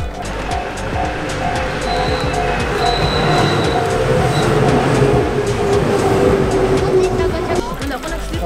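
A train rumbles past steadily and loudly for several seconds, with a continuous rolling roar and faint high squeals, while people talk nearby.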